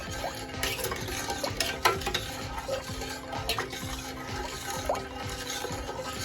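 A spoon stirs sugar syrup for peanut brittle in a pot, with repeated scraping and sloshing strokes against the bottom, close by and continuous.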